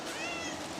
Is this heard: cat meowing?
yes